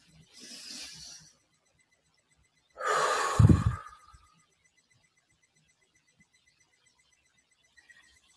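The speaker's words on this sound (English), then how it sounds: "take a deep breath" A person takes a deep breath during a tapping exercise, a soft inhale followed after a pause by a longer, louder exhale, close and alone in a quiet room.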